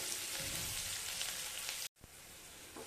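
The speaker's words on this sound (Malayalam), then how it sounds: "ഇനി നമ്മുടെ ഈ വെളുത്തുള്ളി ഇഞ്ചി എല്ലാം ഇതിനകത്ത് എണ്ണയിൽ കിടന്ന് നന്നായിട്ട് മൂത്ത് വന്നിട്ടുണ്ട്" Garlic and ginger frying in oil for Kerala-style mango pickle, a steady close sizzle that breaks off briefly near the end, then resumes.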